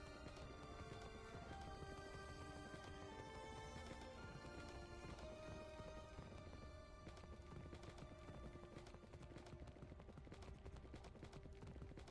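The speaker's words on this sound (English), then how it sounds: "Listen to the horse." Horse hooves clip-clopping steadily in Minecraft under a sustained musical score, the hoofbeats fairly soft against the music.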